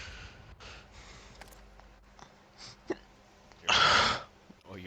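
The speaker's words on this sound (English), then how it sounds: "Oh, you have the hiccups then too." A friend hiccups during a Warzone match, the sharp hiccup heard near the end among quieter breathy sounds and a few soft vocal noises.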